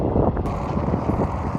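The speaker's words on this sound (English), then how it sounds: "Hope you can hear me because of the wind now." Wind buffeting a microphone outdoors in an open farm field, a steady loud low rumble with gusty swells throughout, no voices.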